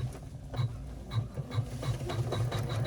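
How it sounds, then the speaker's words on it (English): Embroidery machine stitching a crossbody bag lining together in the hoop, a fairly quiet, rapid rhythmic whirring and clicking of the needle running steadily throughout. "it's going to stitch the lining together and leave an opening to turn the bag later"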